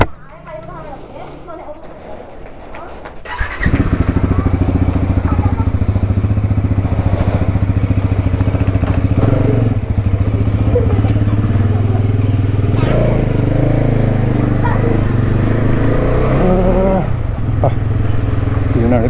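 A new motorbike, started on a low tank of petrol, fires up after a few seconds of quiet and settles into a loud, steady running drone close by, with people talking over it.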